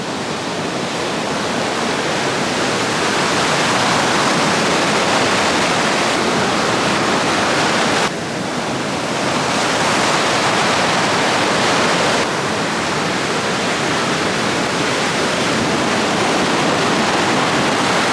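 Continuous roar of ocean waves breaking at a surf spot, loud and steady throughout with slight swells and dips, no voices.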